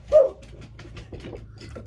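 A dog on a farm property barks once fairly close, a single sharp bark, followed by fainter scattered sounds and low background noise.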